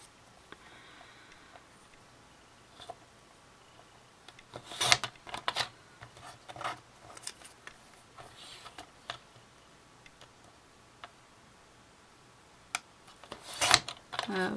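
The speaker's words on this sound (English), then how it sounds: "I'm going to use my trimmer" A paper trimmer slices through cardstock, a few soft sliding swipes and clicks scattered between quiet pauses, close but faint.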